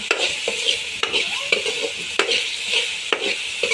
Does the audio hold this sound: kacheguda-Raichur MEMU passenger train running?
no